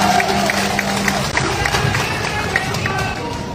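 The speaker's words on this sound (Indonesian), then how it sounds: "Boleh tepuk tangan buat semuanya sekali lagi." An audience at a Jakarta event claps in a loud, crowded burst, with babble and voices mixing into the applause.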